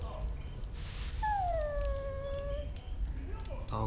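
A dog in Dragon Age: Origins whimpers and howls in long, rising and falling whines, fairly loud over steady game ambience.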